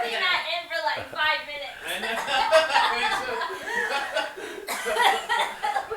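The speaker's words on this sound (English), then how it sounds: "they got these guys right here, both of them, like coughing in unison" Two people cough in rough bursts, mixed with snickering and chuckling, loud and close throughout.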